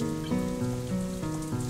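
Rain patters steadily on a surface as a sound effect in the visual novel game Katawa Shoujo, a constant soft hiss layered under gentle tonal background music.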